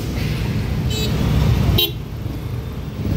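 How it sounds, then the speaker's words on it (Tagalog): Busy street traffic in Panacan, Davao City, with a loud, close engine rumble and two short car horn toots, the second sharper, as the traffic noise eases afterward. "Pero ito, busy. Grabe traffic."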